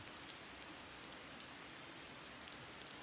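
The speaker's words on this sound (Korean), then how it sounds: "비 엄청 오네" Heavy rain falls as a dense, constant hiss with no break, fairly quiet overall and without any voices.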